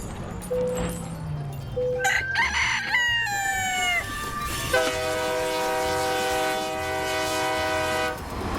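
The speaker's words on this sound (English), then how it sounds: "the train shot past me" A train in American Truck Simulator rushes past with a loud, sustained horn blast over a steady rolling rumble, with no voices.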